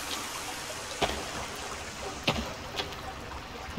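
Continuous running water in a waterfall cave in the survival game The Forest, a steady moderate wash of flowing water with a few faint clicks and knocks over it.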